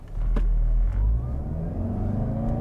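2023 Toyota Camry Hybrid XLE accelerating from a standstill at full throttle, loud steady engine and drivetrain drone heard from inside the cabin, with a low rumble and no speech.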